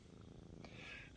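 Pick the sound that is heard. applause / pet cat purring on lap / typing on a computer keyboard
pet cat purring on lap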